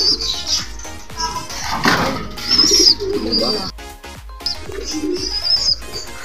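Pigeons coo softly nearby alongside chirping birds, with occasional rustling and a voice speaking briefly in the background.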